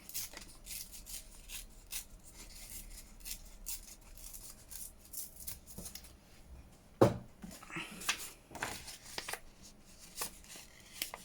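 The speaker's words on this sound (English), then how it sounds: "so this one I'm going to tear" Sheets of paper torn by hand into junk journal ephemera, starting at a creased corner: soft rustling and handling, then a sharp ripping burst partway through, followed by a few shorter close tears.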